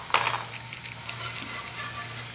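A spoonful of garlic added to mushrooms sautéing in a pan: a soft clatter at the start, then a gentle, steady sizzle with occasional faint stirring scrapes, with no voice.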